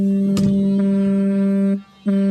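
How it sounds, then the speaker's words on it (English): Grinding from home improvement work next door, heard outdoors near a farm porch: a steady droning hum with a brief knock early on, cutting out near the end and then starting again. "So that's what you're hearing is the grinding next door."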